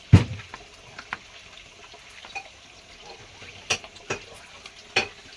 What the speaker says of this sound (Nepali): यसरी मजाले मुछ्ने